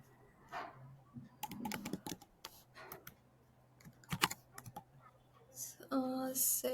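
Code being typed on a computer keyboard, scattered quiet key clicks in irregular bursts with pauses, fairly close and soft, ending in a brief tonal chime.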